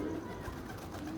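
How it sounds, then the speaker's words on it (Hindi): A pigeon coos softly on a rooftop at night, a low hollow warbling call, fairly faint against steady background noise. "ये आया है जी एक और कबूतर"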